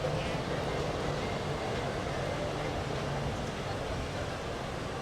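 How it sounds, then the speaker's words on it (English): A Magic Kingdom monorail train rumbles past in a continuous, fairly loud rolling drone with a faint tonal hum, sustained for about five seconds. "Goodbye, monorail."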